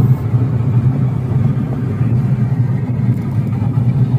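A Ford Fiesta with a fault where the RPM reading stays dead holds a loud, steady low engine rumble under heavy acceleration, droning continuously without voices.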